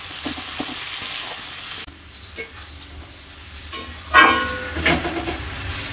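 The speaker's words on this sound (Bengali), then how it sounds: "তো দেখো এখানে লাউটা ভাজা হচ্ছে" Chopped bottle gourd fries in a pan with a soft, continuous sizzle, broken by occasional stirring knocks and a brief louder crackling burst partway through; no one speaks.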